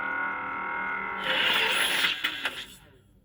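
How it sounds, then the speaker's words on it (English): A toy lightsaber blade retracts with a descending electronic power-down hum, followed by a couple of short, bright beeps at close range with no voices. "Listen to the tail end of the blade, the ignition off"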